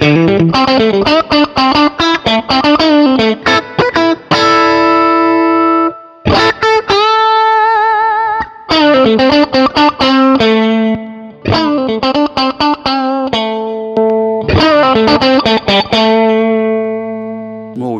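Electric guitar through a Squash The Jam compressor pedal with dry signal blended in, playing picked chords and sustained notes, even and punchy with clear attacks, loud and up close with no talking.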